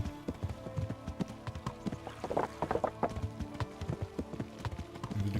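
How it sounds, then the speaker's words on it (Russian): Horse galloping in the medieval video game Kingdom Come Deliverance, a fast continuous clip-clop of hooves under steady game ambience. "Великолепная лошадь просто."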